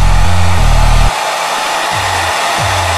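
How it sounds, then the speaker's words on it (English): A hair dryer blows close up to force-dry glue on a plastic RC model of a 1946 wrecker. It roars loudly at first, then drops to a quieter, steadier hiss partway through as the motor tone shifts. "I may even use a hairdryer to force dry it"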